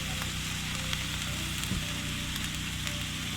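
Spaghetti sauce sizzles steadily in a hot pan on an RV campground stove at Pinecrest Lake, a dense, continuous frying hiss with faint pops and no talking.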